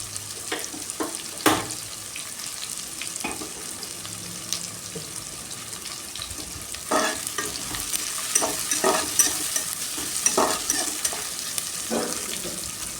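Chopped ridge gourd stir-fried in a pan for a South Indian poriyal. Scraping spatula strokes and clatter recur over a low, steady sizzle, with sharper knocks scattered through.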